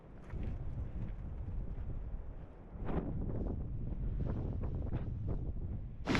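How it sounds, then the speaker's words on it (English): Strong wind buffets the microphone in heavy, roaring gusts that rise and fall, loud and continuous with no voices. "it's too windy right now to even contemplate fishing"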